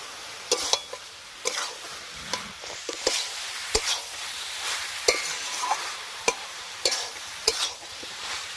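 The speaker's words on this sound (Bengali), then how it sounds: "এবার আমি এর মধ্যে দিয়ে দেবো ভেজে রাখা চিংড়ি মাছ।" Fried prawns are stirred into potatoes and banana stem in a pan, with repeated spatula scrapes and knocks about once a second over a soft background sizzle, close and moderately quiet.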